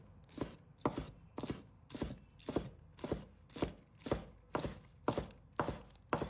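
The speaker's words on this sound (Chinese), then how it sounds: "准备一把小葱，把它切成葱花" A knife chops a bunch of spring onions into small rings on a board, with about a dozen crisp, evenly spaced strokes close up and no voices.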